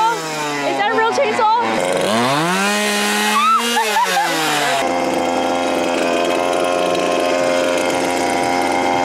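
A fake chainsaw revving loudly up close in a haunted house on Halloween, rising and falling in pitch before settling into a steady, harsh drone.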